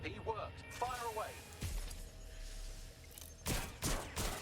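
Bursts of gunfire in the Watch Dogs: Legion video game, a few sharp clustered shots near the end, with a voice talking over the earlier part and a low rumble between shots.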